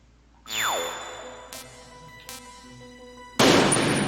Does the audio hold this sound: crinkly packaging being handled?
no